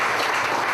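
Applause from an audience at a Goodwill store grand opening in Richmond Hill, Georgia, a short, dense burst of many hands clapping at once.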